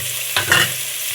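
Ingredients for mango biryani sautéing in a pan: a soft sizzle with a brief scrape of stirring, close and steady, no talking.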